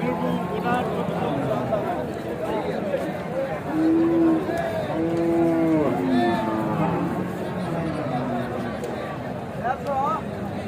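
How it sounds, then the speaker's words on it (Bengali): Indian bullocks at a busy cattle market in Joypurhat give low, drawn-out moos amid a steady murmur of crowd chatter and nearby people talking. "হাটে অনেক গরু রয়েছে দেখছি আমরা।"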